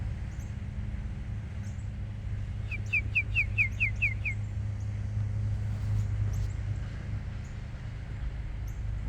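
Birds in a yard give a quick run of about eight bright, descending chirps in a row, followed by a few fainter calls, all over a steady low background hum.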